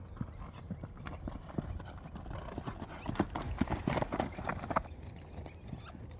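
Horses Pepper and Luna trot around a round pen, their hooves thudding in an uneven clip-clop rhythm, moderately close and growing busier midway, with a brief whinny-like sound and faint background noise.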